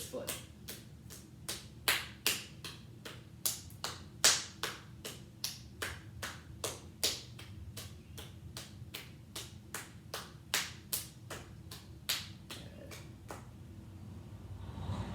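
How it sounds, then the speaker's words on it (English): Hands clapping up and down the sole of a foot during a yoga session: a steady run of about thirty sharp, close slaps, evenly paced, faint low murmur beneath, stopping near the end. "taking both hands now, and just clapping up and down the sole of this foot"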